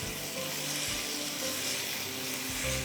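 Minced meat and vegetables sizzle loudly in a hot pan as they are stirred together, a dense, continuous frying hiss with soft scraping of the mix, close and steady throughout.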